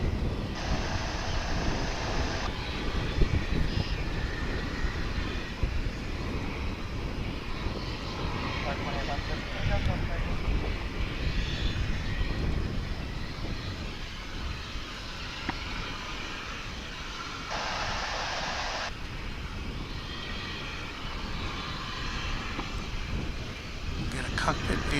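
A jet at Dallas/Fort Worth International Airport rolls for takeoff on runway 18 left, its engines a steady broad roar heard from a distance across the whole span, with wind noise and bits of nearby voices mixed in.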